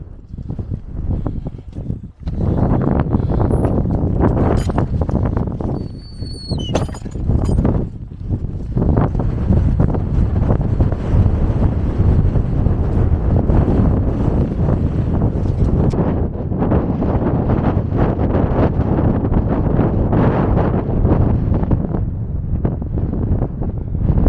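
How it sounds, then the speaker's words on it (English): Strong wind on an open gritstone hilltop roars and buffets the microphone almost continuously, loud and heavy, with only a brief lull near the start. "I hope you can hear me in this wind"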